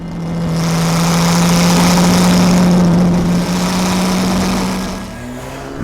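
Engine of a 1955 Ferrari 410 Sport Spider by Scaglietti, a loud close steady rumble with a deep, even low drone, holding for about five seconds before easing slightly.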